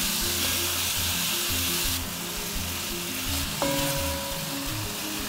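Chicken stir fry cooking with soy sauce and barbecue sauce, a dense continuous sizzle and hiss from the pan with faint stirring clatter; no voices.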